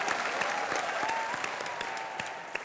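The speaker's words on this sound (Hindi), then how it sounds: "एक बार जोरदार तालियां हो जाएं" A television studio audience claps loudly and steadily, a dense continuous wash of applause with distinct sharp hand claps standing out, holding at an even level throughout.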